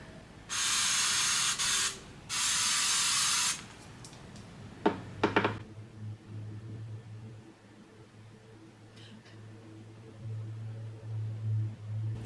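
Pat McGrath Labs Skin 001 setting spray hisses out in two long, close bursts misted onto the face, followed by faint rustling and quiet handling.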